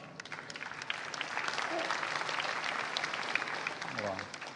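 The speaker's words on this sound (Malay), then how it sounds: "menerima tepukan yang lebih kuat" Applause swells from an audience of new university students at a welcome assembly, a broad wash of clapping that builds and holds steady while a voice briefly rises near the end.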